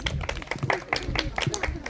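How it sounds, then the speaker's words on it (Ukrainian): Scattered clapping at a community celebration of Polish Constitution Day, sharp individual hand claps in an uneven rhythm from a small group, fairly close, briefly rewarding a correct quiz answer. "Оплески."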